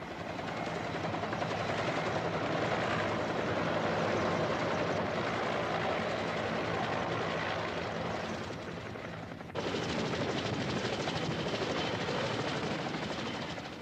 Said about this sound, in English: the helicopters can now only land on the embassy roof or in its secluded compound